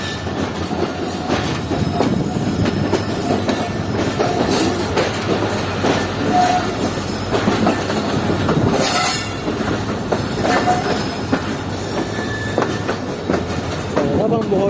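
The Shah Latif Express pulls out of Kotri station. Loud, continuous rumble and rattle of the railcars, with steel wheels squealing and a clickety-clack beat, heard close from on board with faint voices underneath.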